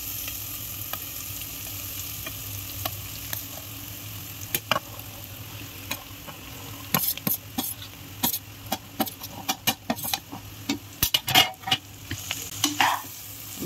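Garlic and boiled jackfruit seeds sautéing in a pan, with a steady sizzle under repeated scraping stirs that grow busier and louder toward the end, close and alone without talk.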